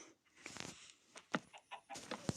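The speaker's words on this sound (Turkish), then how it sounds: "Tam da bir tavuk olsun." A Minecraft chicken clucks in short, uneven bursts, close and moderately loud, with no talking.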